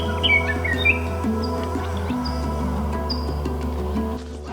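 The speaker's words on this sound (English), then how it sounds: "we're getting a number of desert bird species on this section of the PCT." Desert birds in dry desert scrub along the Pacific Crest Trail give short, thin chirps and tweets at moderate distance over a steady humming background.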